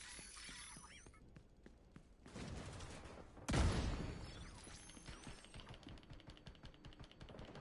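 Gunfire in the shooter game The Division 2, with scattered sharp shots and rattling bursts, one loud close blast in the middle, then a run of quick rapid cracks.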